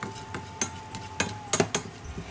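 A spoon stirs chili powder into dhal curry in a pan over low heat, making a series of quick scraping clinks at an uneven rhythm, close and fairly quiet, with no voices.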